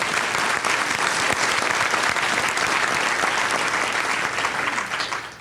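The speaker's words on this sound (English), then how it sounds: "if we could all give them a round of applause" A summit audience breaks into steady, dense applause, a continuous wash of many hands clapping at moderate volume that holds evenly and tapers slightly at the close.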